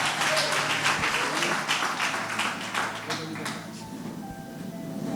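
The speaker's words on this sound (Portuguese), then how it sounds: "dá uma salva de palmas para Jesus" A church congregation at an evening worship service claps in dense, steady applause that fades out over several seconds, leaving faint tones in the background.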